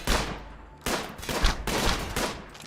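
Gunfire from dwarf colonists in RimWorld, several overlapping bursts of rapid shots in a tight volley, fairly loud and sharp, with no voices.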